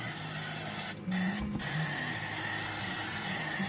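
Spray can applying rust-proof coating to the front suspension of an all-wheel-drive 1994 Chrysler Town & Country, a steady close hiss broken by two short pauses.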